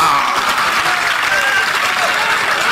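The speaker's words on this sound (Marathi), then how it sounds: "पठारावरून आलेल्या कार्यकर्त्यांचं जल्लोषात टाळ्या वाजून स्वागत करा" Dense, loud applause from a large crowd at an open political rally welcomes arriving party workers, continuous clapping with a voice faintly audible over it.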